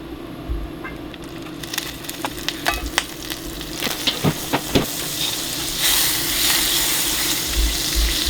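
Butter hits a hot cast iron pan on a single burner, building from quiet background into loud, bubbling sizzle with a run of sharp pops and spatters midway, then a broad steady hiss.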